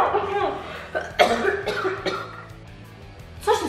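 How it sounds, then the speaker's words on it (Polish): Someone fakes a cough to pretend to be sick: several loud, close, forced coughs and throat-clearing bursts mixed with voiced sounds. "Kaszlesz, kichasz i nie masz apetytu."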